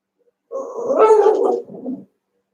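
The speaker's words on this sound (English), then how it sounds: "Yeah, she's a sweet dog." A dog gives one drawn-out, whining bark-like vocalization lasting about a second and a half, close and fairly loud, in an otherwise quiet room.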